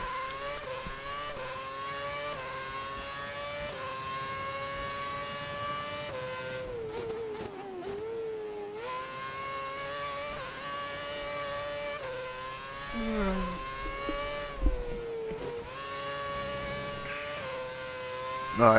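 An F1 car from the game F1 2011 runs a practice lap at the Spanish circuit, its high-pitched engine whining steadily through upshifts and downshifts, with short dips into quiet and a few brief bumps, no talk.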